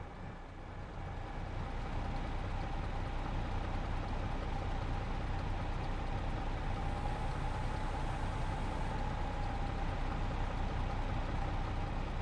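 Steady tractor engine idle from Farming Simulator 22 on a West Australia farm map, a constant low rumble with a faint tonal hum running unbroken and fairly close throughout, no voices.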